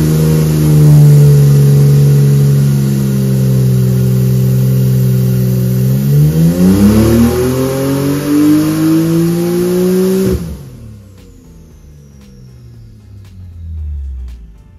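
Porsche 992 Carrera twin-turbo flat-six on a dyno, droning steadily at first, then revving hard with a climbing pitch before cutting off abruptly, followed by quieter whooshing and settling sounds.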